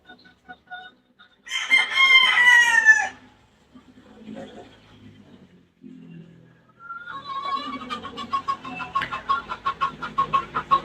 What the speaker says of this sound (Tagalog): Makinig lang tayo sa mga manok.